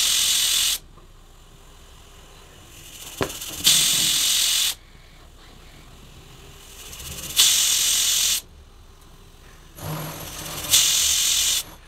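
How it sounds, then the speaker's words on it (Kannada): A pressure cooker of horse gram sambar whistles in three loud, steady hissing blasts, each about a second long and separated by quieter stretches. A sharp knock sounds in one of the gaps. "ಲಿಡ್ನ ಕ್ಲೋಸ್ ಮಾಡಿ ಒಂದು 4 ವಿಷಿಲ್ ಬರೋವರೆಗೂ ಕೂಗಿಸ್ಕೊಳ್ತಾ ಇದ್ದೀನಿ"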